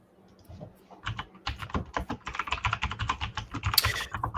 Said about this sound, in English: It is a mechanical keyboard. It's a Black Widow chroma.